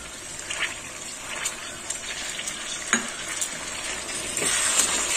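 Kashmiri chicken frying in a pan with saffron added, a steady close sizzle broken by scraping stirs and light knocks of the spoon, while a voice speaks now and then.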